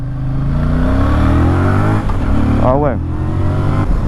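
A Voge 625 DSX motorcycle engine revs at low rpm, holding a steady loud drone with a rising pitch, under a brief spoken remark.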